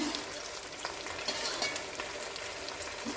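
Steady sizzling and stirring of pumpkin being sautéed in a pan for a Tamil home lunch, with constant close frying crackle and occasional utensil scrapes, no talk.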